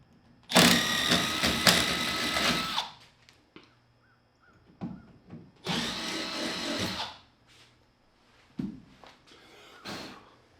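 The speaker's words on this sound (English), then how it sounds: "So I think I'm just gonna drill some here." Two long bursts of a power drill whirring, close and loud, separated by quieter handling clicks and short knocks, while drilling holes in a Square Body K5 Blazer.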